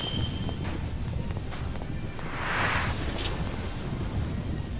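Thunderstorm in the video game One Piece: Pirate Warriors 3, with a low rolling rumble of thunder over steady rain-like noise and a brighter crackling swell in the middle, no voices.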